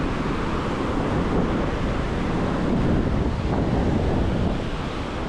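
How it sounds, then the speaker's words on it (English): Big ocean waves breaking at Kamala Beach in Phuket, Thailand: a steady, loud wash of surf with continuous roar and gusty wind buffeting the microphone, no voices. "I love these waves. Anything with big waves I like."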